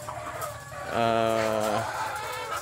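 A single farm chicken lets out a drawn-out, harmonic cluck-like call from a small backyard poultry flock, fairly close and clear against quiet background noise, with no talking.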